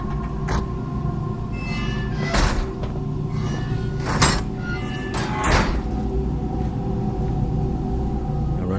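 A door in Batman Arkham Shadow VR slides open with a few sharp mechanical clunks and hisses over a constant low rumbling ambience.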